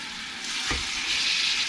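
Oxtails sautéing in a hot pan, a steady bright sizzle throughout with a short low thump midway as pieces are moved or dropped in, close and continuous with no talking.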